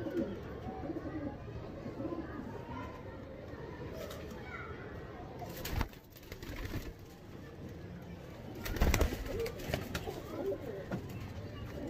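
Older racing pigeons in a loft coo softly in the background while someone talks over them, with a couple of louder rustles or bumps partway through.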